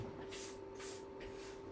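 DeoxIT contact cleaner sprayed from an aerosol can onto a cheap CPU socket during a Commodore Plus/4 repair; three short hissing bursts, close and fairly quiet, with a steady electrical hum beneath.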